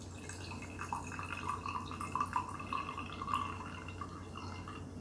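Gyokuro green tea from Hoshinomura, Fukuoka, Japan poured through a filter: a faint, steady trickle with light splashing and dripping, close by and quiet.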